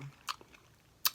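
Someone bites and chews smoked turkey during a mukbang, two soft crunchy bites about a second apart with quiet moist chewing between, close to the mic and no talking.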